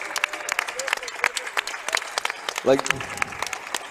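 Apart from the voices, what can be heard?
audience applause at CS:GO tournament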